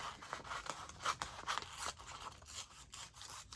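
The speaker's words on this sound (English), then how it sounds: "so now I'm going to cut these out" Scissors cut out embossed magazine paper, with quiet snipping and rustling strokes in an irregular rhythm, close and faint, with no talking.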